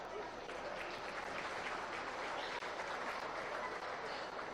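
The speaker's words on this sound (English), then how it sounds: "Let's give our gilt exhibitors a big round of applause" An audience at a swine show gives a steady, continuous round of applause for the gilt exhibitors, broad and even throughout, moderately distant.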